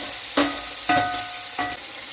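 Tomato sizzling and cooking in a pan, a close steady hiss broken by three distinct stirring scrapes at a slow, even pace.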